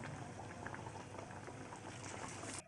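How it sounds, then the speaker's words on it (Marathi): Kombdi vadas deep-frying in hot oil over medium heat, a quiet, continuous bubbling hiss with faint crackles throughout, cutting off abruptly at the end. "त्याच्यामध्ये आपण हे वडे सोडून घेणार आहोत आणि मध्यम आचेवरती हे वडे आपण रंगावरती तळून घेणार आहोत"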